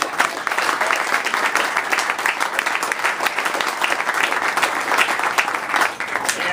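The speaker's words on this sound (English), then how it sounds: "let's give a round of applause to all our congressional candidates" Sustained applause from an audience for congressional candidates at a concession speech event, dense steady clapping at an even loud level throughout with no talk over it.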